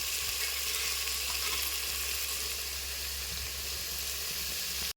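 Tomato fries in oil with a loud, continuous close-up sizzle that holds evenly for a few seconds and then cuts off abruptly.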